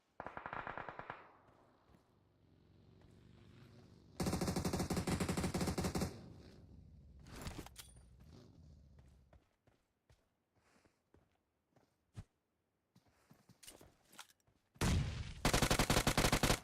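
Gunfire in the battle royale game PUBG Mobile: loud bursts of rapid automatic shots come in separate volleys, with single sharp shots and quieter stretches between them.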